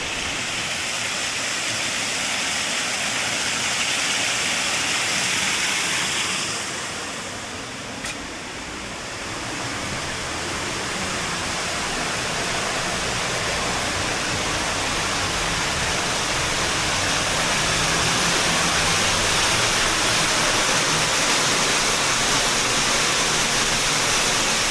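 Waterfall heard from behind its curtain of falling water, a loud steady roaring hiss that fills the whole stretch, dipping briefly in the middle before swelling back to full strength, with no voices.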